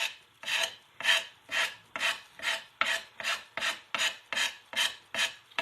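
Hand sanding of still slightly wet paint off a surface, about a dozen steady back-and-forth rasping strokes at an even rhythm, close and fairly loud, with no voices.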